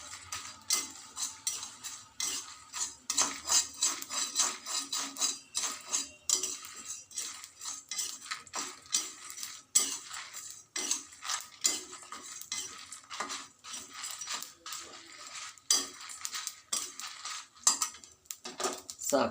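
A spoon stirring and scraping spices as they dry roast in a pan, steady rapid clinks and metallic taps close up, with no voices over them.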